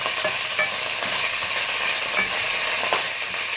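Smoked sausages fry in a pan with a steady, close sizzle, while a utensil scrapes and stirs through them in soft intermittent strokes, and no one speaks.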